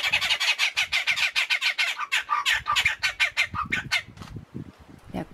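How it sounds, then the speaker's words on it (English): Seychelles bulbuls call on Praslin in the granitic Seychelles, a loud, rapid run of harsh squawking notes that slows and thins toward the end, close by and with no talking. "The Seychelles bulbul is another granitic island endemic and one of the birds I really wish to see from close."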